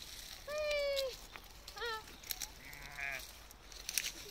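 Nearby sheep bleat several times in short, wavering calls with quiet gaps between them, set against a faint outdoor farm background.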